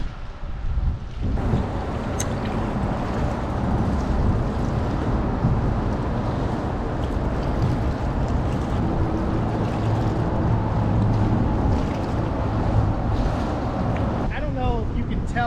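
Strong wind buffets a small boat on rough, choppy water in a bay, a loud steady roar of gusts and wave noise filling the whole stretch with no clear break.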